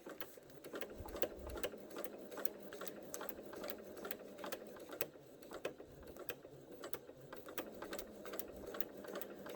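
A sewing machine stitches a log cabin quilt block with a steady, fast mechanical whir and rapid needle clatter, running continuously and close by with no talk.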